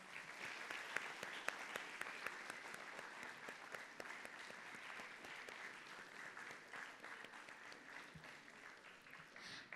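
A large audience welcomes Dr. Mallika Nadda with steady, continuous applause at a leadership lecture, the clapping even and sustained for nearly ten seconds at a fairly distant, moderate level.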